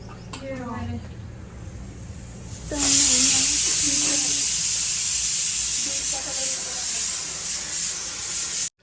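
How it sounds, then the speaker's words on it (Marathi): Cumin seeds crackle in hot oil for tempering while pav bhaji is cooked in a hostel kitchen. A loud, close, steady sizzling hiss starts suddenly and continues, with voices speaking over it and before it. "जिराची मस्त फोडणी छान असं तडतडलंय"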